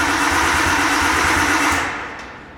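A Nissan R32 engine, long abandoned and running on stale fuel, cranks over in a rapid, even churning rhythm, loud and close, then fades away.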